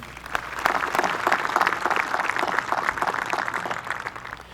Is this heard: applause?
yes